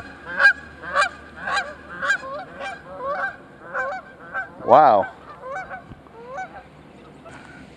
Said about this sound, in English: That goose came flying from behind me. He was like 12 feet away. Now they're fighting over there. Goose fight.